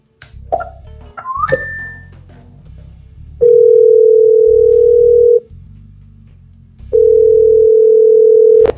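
A voicemail system sounds a few short beeps and chirps, then two long steady telephone tones of about two seconds each, separated by a pause, loud and clean.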